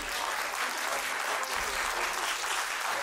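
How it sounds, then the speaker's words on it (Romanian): Steady audience applause for an instrumental soloist at a folk music competition fills the whole stretch, a dense, even patter of many hands clapping at moderate volume with no voices standing out. "Haideți să-l încurajăm cu aplauze și pe Ilia Gabriel Paul."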